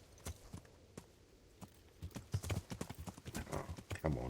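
Horse hooves clip-clopping in the video game Kingdom Come Deliverance, sparse steps at first, then a quicker, denser trot of close, crisp hoofbeats.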